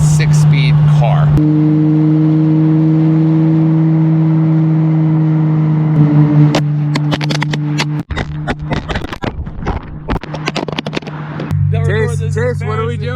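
Ferrari 550 Barchetta with a gated six-speed gearbox, its engine holding a steady, loud droning note for several seconds. Clicks, knocks and voices break in toward the end.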